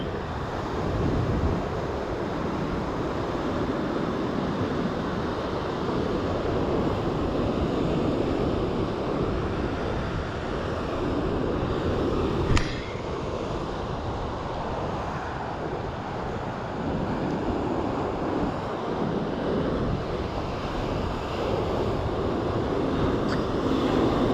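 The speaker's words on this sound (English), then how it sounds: "Wind is also messing with my line so much." Steady wind buffets the microphone at the Scottburgh seashore during a fishing session, with a constant broadband rush and faint surf underneath, loud and unbroken for the whole stretch.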